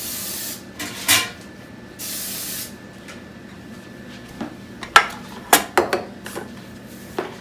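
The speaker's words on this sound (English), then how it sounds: "spray the bottom, and then I go over to a waste can or a sink and spray the sides" Several short hissing bursts of cooking spray onto a metal quiche pan, then light metallic clinks and clatters of the pan being handled.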